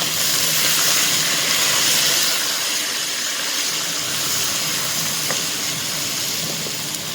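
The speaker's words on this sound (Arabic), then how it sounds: "نحرك." Quail kabsa simmering in a pot over medium heat, giving a steady, loud hiss and sizzle with faint stirring scrapes underneath, continuous throughout with no talking.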